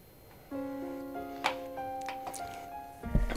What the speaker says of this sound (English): Starting off with the keyboard player.